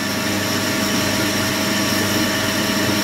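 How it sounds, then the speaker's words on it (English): A metal lathe turns down a steel pivot arm for a folding chainsaw log bench, giving a constant loud whirring drone with a steady mechanical hum and no pauses. "And I'm just turning it down to about 19mm."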